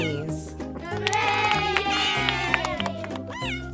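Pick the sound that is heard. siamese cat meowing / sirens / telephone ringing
siamese cat meowing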